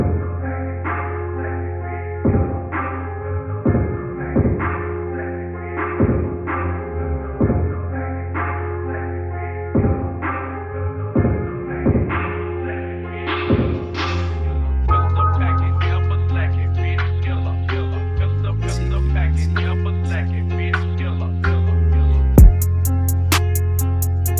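A sampled beat intro opens with chopped melodic notes and rhythmic hits. Automated Valhalla Vintage Reverb then swells into a long, washy sustained tail, loud and without voices.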